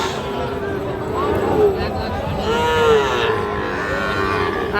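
Sahiwal bull calves at a busy livestock market, with repeated drawn-out moos rising over constant crowd chatter and nearby talking.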